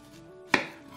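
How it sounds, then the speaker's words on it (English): A single knife chop lands on onions against a cutting board, one crisp close thud in an otherwise quiet kitchen. "so I'm just going to just chop this up and then cook them"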